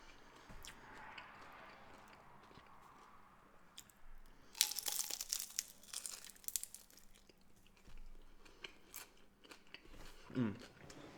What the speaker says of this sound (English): it's got a very nice crunchy bite.